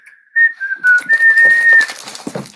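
A single high whistled tone, whistled after eating, held with slight wavering pitch for over a second, close and loud, followed by scattered crunching and rustling.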